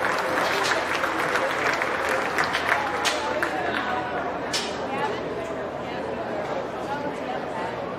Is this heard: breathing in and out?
no